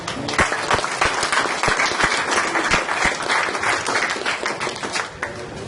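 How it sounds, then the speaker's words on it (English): A large street crowd of about 130 people applauds at an outdoor talk, a dense, steady wash of many hands clapping that carries on for several seconds with no talk over it. "Give her a round of applause."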